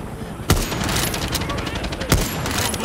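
Gunfire in the Fortnite video game, with two sharp shots standing out over a continuous busy din of game noise and distant firing.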